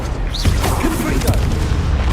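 Confringo fire-spell blast in the Hogwarts Legacy wizarding game, a loud dense booming rumble filling a short stretch, with a voice talking over the explosion.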